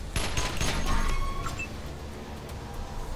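In the Wasteland 2 video game, a burst of gunfire hits an enemy as rapid cracking shots up front give way to a sustained noisy rumble and fading echoes.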